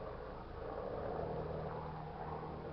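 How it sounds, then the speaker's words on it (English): Small news helicopter passing overhead outdoors, a faint steady engine and rotor drone heard from a distance without any talking. "I don't know if you guys hear that plane, but it's pretty loud."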